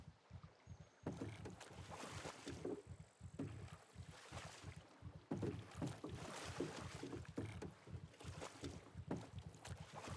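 Rhythmic splashing strokes of oars paddling a boat through water in the survival video game SCUM, steady and fairly close, with wind noise running underneath and no talking.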